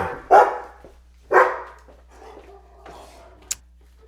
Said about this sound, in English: The dog is barking at Josh.